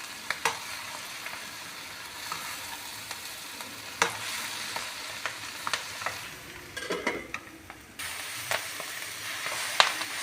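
Spices being stirred into a sabzi of moringa leaves, moringa flowers and red amaranth in a kadai make a soft sizzle, broken by irregular scrapes and knocks of the spoon against the pan, with no talking.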